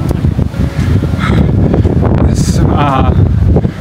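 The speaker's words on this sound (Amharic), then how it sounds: "ነፋሱ ግን ከባድ ነው ለመናገር" Strong wind buffets the microphone at the top of the 500-year-old St. Nicholas Cathedral in Fribourg, Switzerland, a loud continuous roar with gusts, and a person talks over it.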